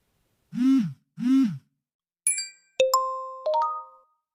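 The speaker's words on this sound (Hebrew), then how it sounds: "זמן קצר אחר כך צפצפו בחלק מהמקומות גם הטלפונים הסלולריים." Israeli emergency mobile phone alert: two swooping low tones followed by bright sustained electronic beeps and chimes, clear and close with no voices.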